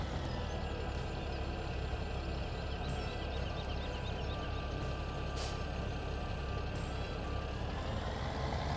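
A tractor in the Farming Simulator video game hauls a trailer, its steady engine drone running continuously underneath, with occasional faint mechanical clanks and a brief hiss partway through, and no talking.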